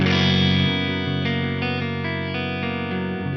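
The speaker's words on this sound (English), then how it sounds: "Beautiful heavenly reverb right there." Electric guitar through a Marshall JTM45 amp set at the edge of breakup, drenched in a long two-second reverb; sustained chords ring out and blossom into a lush, shimmering wash with no talking.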